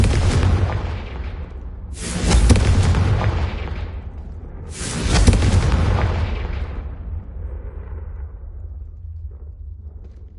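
Confringo spell explosions in Hogwarts Legacy, three heavy booms a few seconds apart, each with a sharp onset and a long rumbling decay, loud and close, with no talking.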